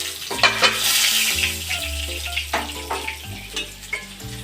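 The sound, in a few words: potatoes frying in a pan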